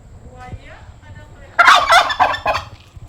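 A bird call at a run-down zoo: loud, close, harsh gobbling cries in rapid pulses follow a quieter stretch of faint background noise.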